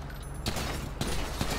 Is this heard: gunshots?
yes